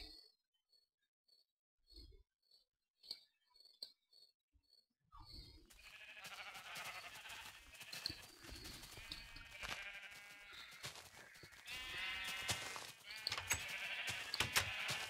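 Sheep bleat on a sheep farm in a video game world tour, first as sparse quiet isolated calls, then as a loud, continuous chorus of overlapping bleats from the flock close by.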